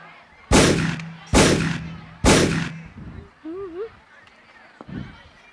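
Three loud, sharp gunshot bangs ring out about a second apart on stage during a Hindi school annual-day play, each with a short echoing decay, followed by a brief voice and a fainter knock.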